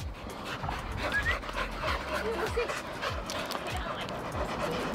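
Dogs pant steadily and whimper faintly on a walk at Matlock Bath, the rhythmic breathing running throughout at close range over outdoor background noise.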